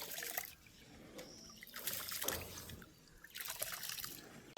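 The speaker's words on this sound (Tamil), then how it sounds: "நல்லபடியாக கழுவி நாங்கள் அரிச்சு எடுத்துட்டோம்" Rice is being rinsed by hand in water, giving quiet swishing and trickling splashes that come in short bursts with pauses between them.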